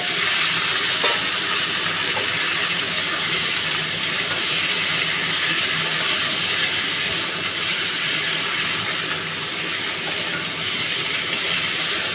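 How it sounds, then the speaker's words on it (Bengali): Potato and pumpkin pieces with Malabar spinach stalks and turmeric fry in a pan, giving a steady, dense sizzle that holds at an even level throughout with no voices. "আলু আর কুমড়োটাকে ভালো করে ভাজব"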